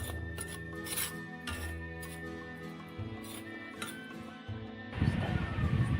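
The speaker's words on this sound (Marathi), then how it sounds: "आता आपण वाल टाकतो. हे पण आपल्याला आता भाजून घ्यायचे." Dry field beans (val) being roasted in a pan, giving a scattered rasping and light clinking of beans against metal, with a denser, louder rattle toward the end.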